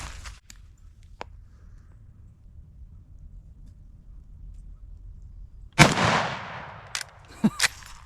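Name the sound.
rifle shot at explosive target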